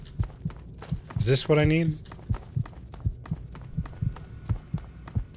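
In-game heartbeat in Fallout 3 during a firefight, a steady low thumping pulse repeating about twice a second throughout, briefly overlaid by a voice.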